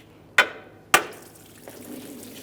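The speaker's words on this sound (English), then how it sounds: "I'm also going to tap on the far end with a hammer." A hammer taps twice on the far end of a pry bar wedged against a 2008-2017 Mitsubishi Lancer 2.4L engine water pump, two sharp metallic strikes about half a second apart, close and alone, followed by a faint clink.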